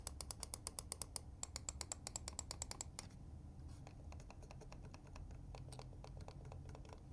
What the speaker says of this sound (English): The main clicks are traditional, non-silent clicks